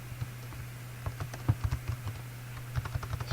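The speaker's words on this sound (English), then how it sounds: "sorry about my bad typing there" Fingers type on a computer keyboard in quick, uneven bursts of close, crisp clicks, with a low steady hum underneath.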